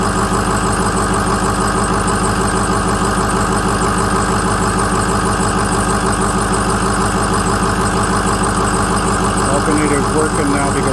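A 2007 Ford F250 with the 6.0 engine idles steadily and close by with its new alternator charging, a constant low mechanical drone with no words spoken over it.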